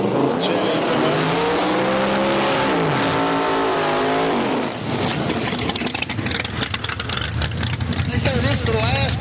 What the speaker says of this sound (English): This is the last pass of Chris Domino's car.